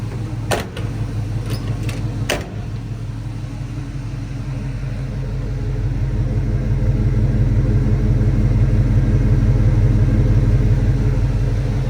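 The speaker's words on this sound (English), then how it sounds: "Nice sounding exhaust, nice sounding, nice looking truck." A 1980 Chevrolet C-10 short-bed pickup's exhaust settling at low idle: a deep, even rumble close by, with a few sharp clicks near the start and the drone growing slightly louder partway through.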